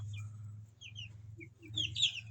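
Rhode Island White cross White Leghorn chicks peep in short, high chirps scattered over a low steady hum, faint and close, with a brief cluster of louder calls near the end.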